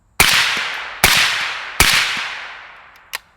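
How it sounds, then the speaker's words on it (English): An AK rifle fitted with a Wolfpack Armory Disruptor 36L suppressor fires three sharp shots about a second apart outdoors, each with a decaying tail, followed by a smaller metallic clack. "that sounded really good to me for an AK"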